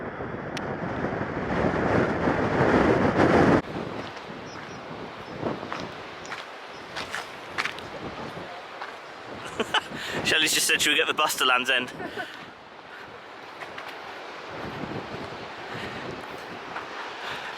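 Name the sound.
strong wind on Cornish coast path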